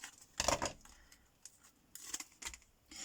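Scissors cut card for a stamped Christmas card, making a few faint, close snips and crisp paper sounds with short gaps between them.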